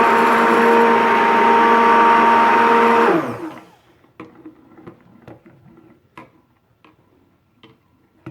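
Stick blender whirring loudly in goat milk soap batter for about three seconds, then switching off, followed by scattered small clicks and taps.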